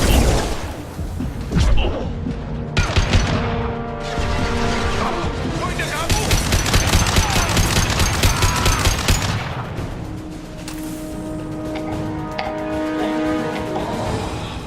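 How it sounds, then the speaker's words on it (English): Gunfire from Blue Suns mercenaries and Vorcha in the Mass Effect 2 video game, a dense barrage of overlapping shots and bursts running nearly the whole time alongside battle effects and music, loud and close, with voices now and then. "The Blue Suns and Vorcha are shooting anything that moves"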